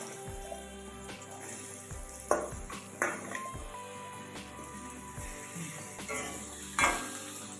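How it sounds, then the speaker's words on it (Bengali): Pumpkin pieces fry in a pan with a soft, steady sizzle, broken by several clinks and scrapes of a utensil stirring against the metal. "এখন আমি কুমড়োটাকেও একটু ভেজে নেব।"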